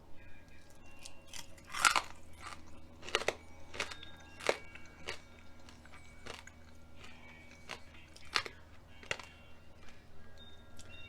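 Crunchy chewing of roasted pork skin, close up, with repeated sharp crackling bites at an irregular pace and no talking.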